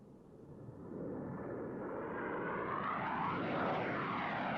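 Blue Angels jets roaring past at the Reno airshow, a broad, steadily rising engine roar that swells as the aircraft close in and holds loud without any voices.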